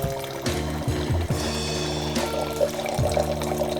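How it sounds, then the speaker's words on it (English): Pinot Noir pours through an aerator pourer into a glass, a continuous gurgling trickle with a few bubbling, splashing bursts, close and moderately loud. "I'm gonna pour a glass up for your mom right now."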